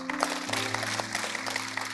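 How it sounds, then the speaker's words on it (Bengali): A crowd at a school programme gives moderate applause for the second-place quiz winner. The clapping is steady and fairly soft, with a low steady hum running beneath it. "ওর জন্য আরও একবার হাততালি"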